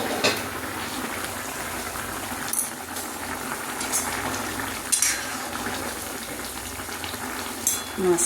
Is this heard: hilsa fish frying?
yes